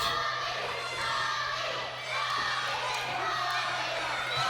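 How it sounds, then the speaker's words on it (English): Wrestling crowd at an Elite Pro Championship match cheering and chanting for Robbie Paige, a continuous loud mass of voices with whoops swelling in waves. "Crowd chanting for Robbie Paige here"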